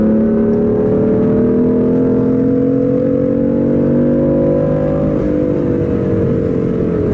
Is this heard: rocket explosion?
no